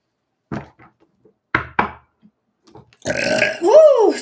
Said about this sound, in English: Spirit makes me burp.